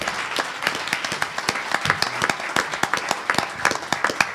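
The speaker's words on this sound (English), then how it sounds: "Can we give our speakers a round of applause?" An audience gives a round of applause for the speakers at a distinguished lecture on helping a family member with drug addiction. The clapping is crisp and sustained, with individual sharp claps standing out over the continuous patter.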